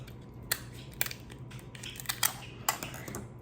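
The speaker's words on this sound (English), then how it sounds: "I'm going to cut these straight down the middle with my scissors." Kitchen scissors cut lobster tail shells straight down the middle, giving a series of sharp, crunchy snips roughly every half second, close and fairly quiet against a soft room hum.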